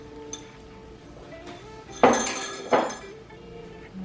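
A tomato mixture for huevos mexicanos is spooned into a pan, heard as two sharp metallic clinks of a utensil on the pan against a quiet room background.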